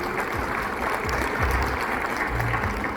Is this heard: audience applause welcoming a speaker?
yes